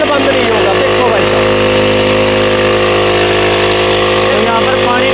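A petrol spray pump engine for a 100-foot pressure sprayer runs steadily and loudly while water is poured over it, a constant droning hum with someone talking over it throughout.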